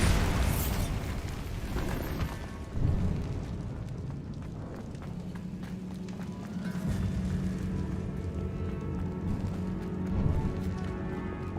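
Repeated blasting-spell explosions from the game Hogwarts Legacy, with booming bursts and rumbling debris over a dense, continuous game soundscape with music.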